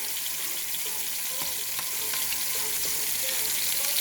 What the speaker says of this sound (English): and just baste our steak with it